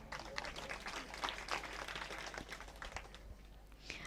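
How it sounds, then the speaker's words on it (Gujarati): Children at a village camp closing ceremony clap their hands in applause, a steady patter of many small hands running through the whole moment at moderate, slightly distant loudness. "તમારા માટે તાળી વાળો"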